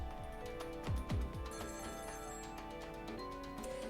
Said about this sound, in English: So we get a phone call.